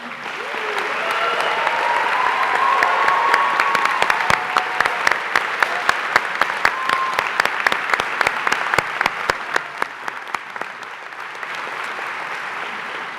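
Long, full applause from a large audience at a 2018 commencement ceremony, a dense roar of clapping with sharp individual claps standing out in the middle stretch before the sound thins and tapers off.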